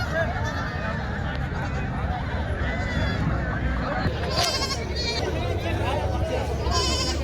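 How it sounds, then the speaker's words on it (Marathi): Goats bleat at a busy weekly goat market in Vasmat, with sharp calls rising out of a dense, constant crowd murmur and talk, most clearly near the middle and end. "हा आठवडी शेळी बाजार आहे"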